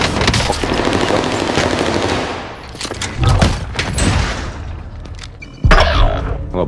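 Video game gunfire in Call of Duty: Modern Warfare: a dense burst of rapid automatic shots at first, then separate heavy booming shots and thuds, loud and close, with a few brief voice sounds mixed in.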